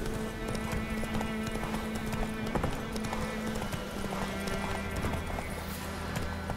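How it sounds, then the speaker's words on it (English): Galloping horse hooves in The Witcher 3 video game, a steady rapid clip-clop running throughout under a continuous game ambience and music bed. "Whoa there, Roach."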